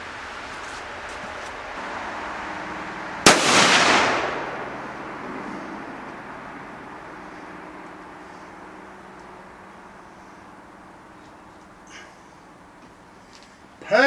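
A single loud 30-06 rifle shot cracks out while sighting in at a rustic log cabin deer hunting camp, followed by a long decaying echo across open ground, with faint ambient rustle afterward.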